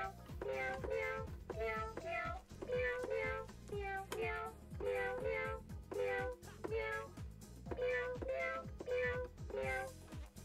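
A toy cat piano sounds pitched electronic meows, played as an improvised melody with steady repeated notes and low thumping accompaniment, continuous and fairly close.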